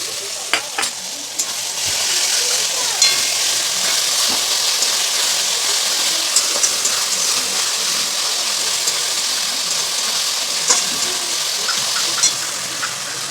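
Ginger garlic paste frying in a pan gives a bright, steady hiss of sizzling oil throughout, broken by frequent light taps and scrapes of stirring, close and fairly loud.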